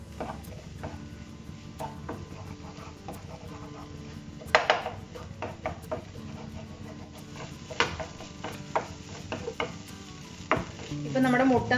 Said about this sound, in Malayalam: ഇനി നമുക്കിത് നന്നായിട്ടൊന്ന് ഫ്രൈ ചെയ്തെടുക്കണം എല്ലാം കൂടെ.